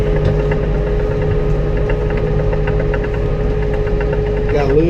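A tractor engine runs steadily up close with a low knocking chug and constant vibration, and a brief voice comes in near the end.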